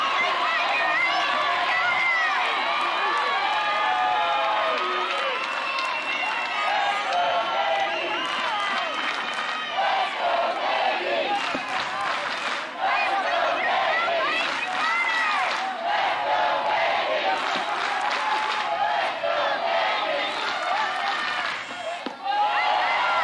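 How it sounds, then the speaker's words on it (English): A sellout crowd at a women's college softball game between Alabama and Kentucky fills the air with constant loud cheering and rhythmic chanting, punctuated by claps, while an announcer talks over it. "playing in front of a sellout crowd here today, hearing the chant, "Let's go KB.""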